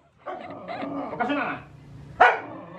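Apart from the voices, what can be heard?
dog barking angrily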